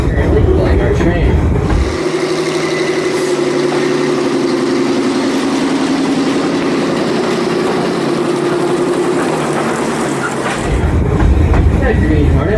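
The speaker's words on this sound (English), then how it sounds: "That green Hornet gasoline locomotive is currently pulling our train." A 1928 Plymouth Green Hornet gasoline locomotive hauls a heritage train, its steady low engine drone and rumbling wagons running loud and continuous with rhythmic rail clatter, fading at the end.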